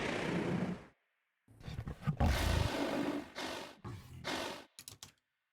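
Deep, rumbling growls in several layered bursts separated by short silences, loud and close, like a large beast snarling; layered lion growls with basic loop growls and a whale's blowhole, designed as a dinosaur sound.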